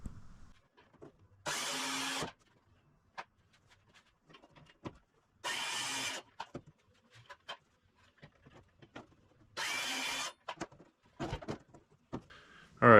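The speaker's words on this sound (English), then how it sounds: "Doing square holes are pretty easy. You just do plunge cuts and it goes real well." A power tool makes plunge cuts for square holes in an ACM aluminium composite panel: three short, loud buzzing bursts of under a second each, spaced a few seconds apart, separated by quiet handling clicks and taps.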